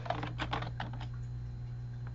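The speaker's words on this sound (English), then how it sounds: "So if I type in my password, I've typed it in." A few quick keystrokes on a computer keyboard typing a password, soft close clicks in a short burst that then trails off into quiet room hum.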